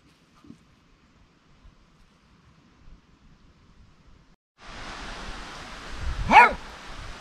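A dog barks once, loud and close, outdoors in a garden where potatoes are being dug; the bark follows a near-silent stretch and a burst of rustling background noise.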